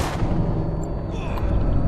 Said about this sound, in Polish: Oni już wybuchają, widzisz?